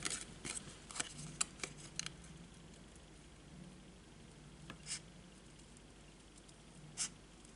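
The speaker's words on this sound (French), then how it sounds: "Et maintenant, on va venir découper les lignes." Scissors cutting lines in paper card for a handmade sliding card, heard as faint, close snips in a quick irregular cluster, then a few isolated cuts spaced apart in a quiet room.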